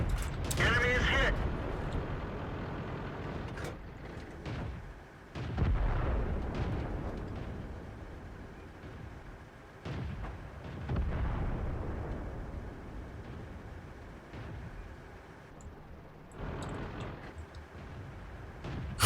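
Tank cannon fire and heavy explosions in World of Tanks battle gameplay, with several loud booming blasts and rumbling impacts spread across the stretch, someone talking over the action between shots.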